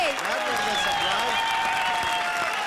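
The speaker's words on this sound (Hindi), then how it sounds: "जोरदार तालियां विनोद और राजवीर के लिए।" An audience at a televised comedy show breaks into loud, steady applause, a dense wash of clapping that carries on for a few seconds with some crowd noise mixed in.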